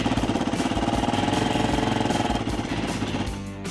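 A stock Can-Am Maverick X3 UTV engine with its original exhaust runs close by at idle, giving a loud, rapid, even chugging pulse that eases off slightly toward the end.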